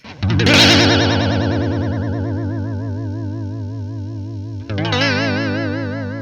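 A slowed, deep guitar chord swells and decays with a warbling, watery reverb, then a second chord is struck near the end.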